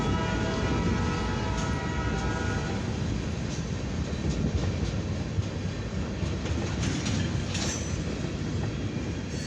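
A CFE mixed freight train rolls past the Market Street railroad crossing on the main track, a loud steady rumble of wagons with clickety-clack wheel beats and faint squeals throughout.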